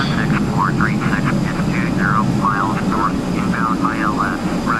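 A steady, droning airplane engine hums continuously in the flight simulator game Flight Simulator X during a climb, loud and unbroken, with someone speaking over it throughout.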